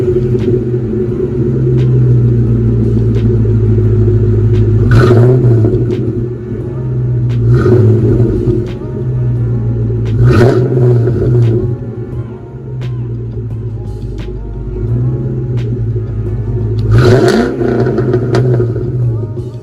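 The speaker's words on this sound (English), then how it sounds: "I like this combination because it sounds great under throttle, but cruising in an overdrive, it's pretty quiet" New Edge Mustang V8 exhaust with an X-pipe or H-pipe, idling with a deep rumble and blipped up in four sharp, loud revs spaced a few seconds apart, recorded close with no talking.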